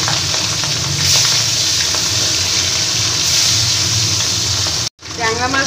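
Salted, turmeric-coated tangra fish frying in oil, a continuous sizzle with a couple of louder hissing swells, then a brief silence before a watery gurgle at the end.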